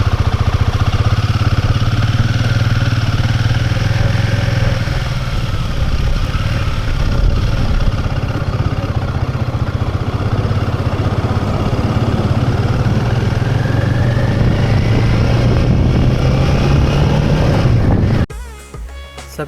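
A motorcycle engine drones steadily and loudly through a long highway ride near Hampi, with heavy wind buffeting the microphone throughout and the rumble cutting off abruptly near the end.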